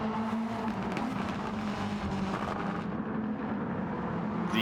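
Race cars from the Gran Turismo 7 video game thunder through a tunnel, giving a dense, steady, loud engine roar with no talk over it.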